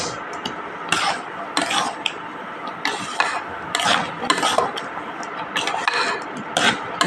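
A spoon scrapes and stirs a dalia laddu mixture with melted sugar in a pan, a rhythmic gritty rasping in repeated strokes, close and fairly loud.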